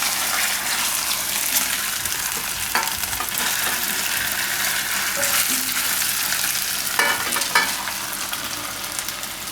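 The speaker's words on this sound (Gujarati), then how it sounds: "નહીં તો થોડી થોડી 2 વાર એને આપણે તેલમાં ફ્રાય કરી લેવું." Taro (arvi) pieces fry in hot oil in a home kitchen with a steady, loud sizzle that fills the whole stretch, while stirring adds occasional scraping and clattering bursts. No one speaks.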